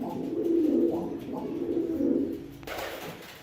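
Pigeons coo nearby in a low, throaty, rolling series of calls, repeated a few times, with a brief scuffing noise at the end.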